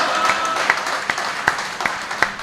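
Audience clapping at a comedy show, a dense, steady burst of applause with a few sharper claps standing out, filling the room continuously.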